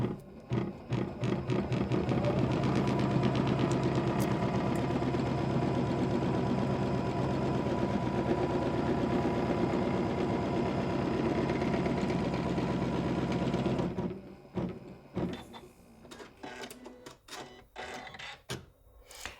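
An embroidery sewing machine stitches a line on a fabric notebook cover, giving a steady, fast mechanical whirring hum for about fourteen seconds before it stops, followed by a few clicks and handling sounds.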